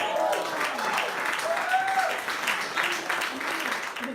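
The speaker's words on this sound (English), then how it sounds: "You all should be clapping" An audience applauds at a talk, a dense, continuous clatter of many hands lasting about four seconds, with faint voices mixed in.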